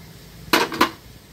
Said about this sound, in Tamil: இப்போ தேங்காய் போட்டாச்சு